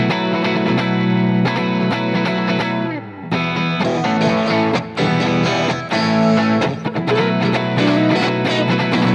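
An electric guitar runs through a compressor, heavy EQ and a tone modifier. It plays sustained, driven chords and riffs with a short pause partway through, loud and alone.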